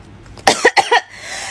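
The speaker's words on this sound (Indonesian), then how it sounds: "Batuk." A short burst of coughs, three or four quick hacks in a row, close and fairly loud against a quiet background.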